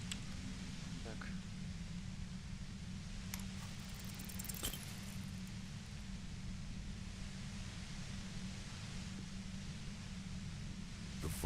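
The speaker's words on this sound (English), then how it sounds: "The violent white noise becomes even more overwhelming closer to the compressor." Steady, dense white noise near a compressor in Disco Elysium, a constant low hiss and rumble filling the whole stretch, with a few faint clicks over it.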